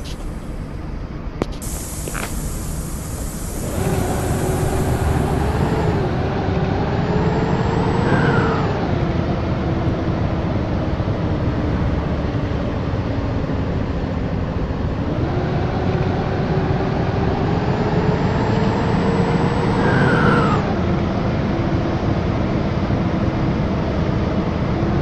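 A Metalpar Iguazu city bus on line 17 idles with its engine running, a steady low rumble that swells and eases in long slow cycles, with a brief high whine near the start and no talking.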